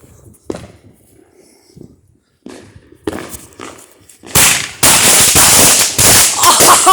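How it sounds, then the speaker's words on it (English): A Phantom Fireworks Off Da Hook 12-shot 350-gram cake fires outdoors: a few scattered thumps and handling noises, then loud crackling bursts of shells popping in quick, overlapping succession. "12 shot off the hook Phantom fireworks with Willie Leaguer shells."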